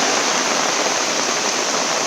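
Heavy monsoon downpour in the Konkan countryside, a dense, loud, unbroken roar of falling water with no voices.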